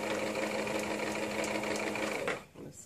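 A sewing machine runs steadily as it stitches a ruffle row onto a child's romper, a continuous close whir that stops abruptly near the end.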